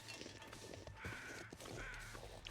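Crows cawing near a deer carcass in a snowy wilderness in the video game The Long Dark, with two drawn-out caws about a second apart over faint background rumble, fairly quiet and without talk.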